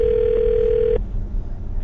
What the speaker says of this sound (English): I'm about to dial her phone number